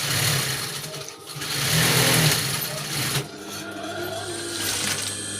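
A sewing machine stitches the lining of a cap from the front with a half-inch seam, its motor whirring steadily and loudly, dipping briefly and picking back up as the speed changes.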